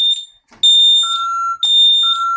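Shrill electronic tones from an ADT SafeWatch Pro 3000 fire alarm pulse loudly in quick repeated bursts, close by, with a brief dip partway through and no talking.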